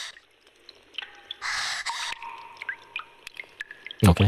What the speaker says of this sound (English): just played the gasping sound effect twice in a row